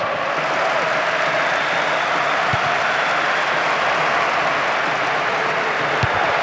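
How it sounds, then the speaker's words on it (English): Stadium crowd in the PES 2008 football game cheering and roaring throughout, a dense, steady wall of applause and noise with no break, loud and continuous. "just listen to the crowd. The support for both teams is tremendous"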